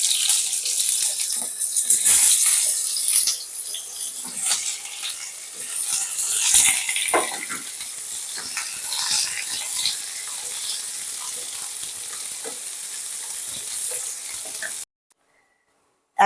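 Diced medium potatoes fry in tempered oil for a vegetarian cabbage dish and are stirred. A steady, fairly loud sizzling hiss is broken by scraping stirs, then cuts off to near silence at the very end.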